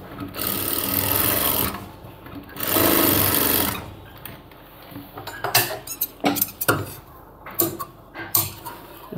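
A sewing machine stitching a cargo half pant runs in two steady bursts of whirring, then gives way to irregular clicks and clatters of handling the fabric and machine parts.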